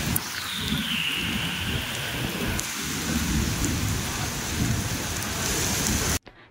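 Light rain falls steadily with a rolling rumble of thunder, a continuous close hiss throughout that cuts off abruptly at the end.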